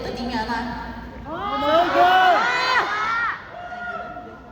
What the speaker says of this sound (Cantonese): 你哋嘅歡呼聲又好大啦